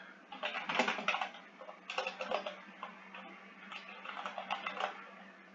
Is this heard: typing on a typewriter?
yes